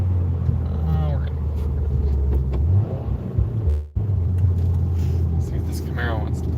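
A 2020 Subaru WRX engine drones loudly and rises in pitch as it revs under acceleration. A brief dip and shift come partway through, probably a gear change, and then the strong steady engine note resumes.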